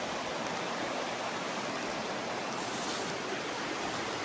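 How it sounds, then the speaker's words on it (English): The Nantahala River in North Carolina's Nantahala National Forest runs shallow like a creek, a constant, close rushing hiss of flowing water with no other sounds. "Hard to believe that's the Nantahala River. Looks like a creek"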